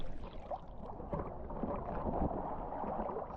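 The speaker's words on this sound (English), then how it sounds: "and lots of boats are coming in." Low, steady engine rumble and water wash from boats coming into Maya Bay, Thailand, a moderate continuous drone with no clear breaks.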